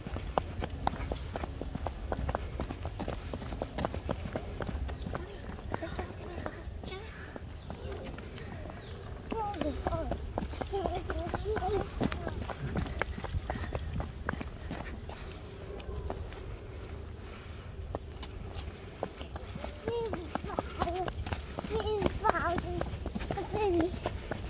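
Horse hooves clip-clop at a walking pace on an outdoor path, steady and moderately distant, while people talk and a voice is heard over them.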